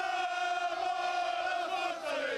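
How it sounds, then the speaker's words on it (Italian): Treviso football fans protesting in Piazza dei Signori, a crowd chanting and shouting in sustained unison, a loud steady roar of voices with no breaks. "i tifosi scesi in piazza per gridare la loro rabbia e preoccupazione"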